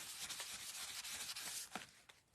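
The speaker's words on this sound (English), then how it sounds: "I'm applying this over the top of the image as well. And then I'm going to rub it off." A cloth rubs a coating off over a printed image in a shabby chic Valentine's craft, making soft, continuous, close scratchy swishing strokes that stay quiet and steady, with no talking.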